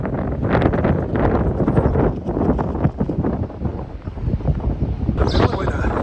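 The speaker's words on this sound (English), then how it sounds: "There's nothing stopping the wind from blowing up against the van." Strong wind buffets a van parked overnight in a casino lot, a steady loud roar with gusty surges and some rumble against the vehicle, with no voice heard.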